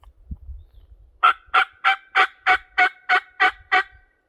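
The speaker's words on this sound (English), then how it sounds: "There's a turkey gobbling right down here." A wild turkey gobbling on Oregon public land, a single rapid run of about nine rattling notes, fairly clear but some distance off, after a soft thump and faint low rustling.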